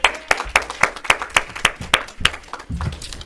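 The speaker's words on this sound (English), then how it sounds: "Let's give Juliet a round of applause" Congregation at a Sunday church service claps together in a round of applause, a steady patter of hand claps at moderate loudness with no talking.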